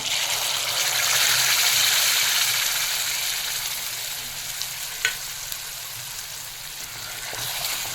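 Ground masala gravy for egg masala sautés in oil over medium heat, a loud continuous close sizzle swelling early then easing, with a few faint scrapes of stirring.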